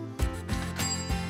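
A bell rings repeatedly in a vet clinic, with four metallic strikes about a third of a second apart. Each strike leaves a sustained ringing tone, close and fairly loud, with no talk.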